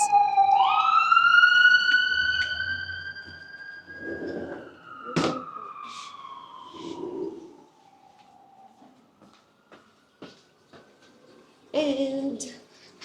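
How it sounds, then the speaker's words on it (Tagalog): Ambulance siren passing on a street in Jerusalem, a rising wail that holds and slowly falls away as it recedes, followed by faint scattered street sounds and a brief nearby noise at the end. "May ambulance."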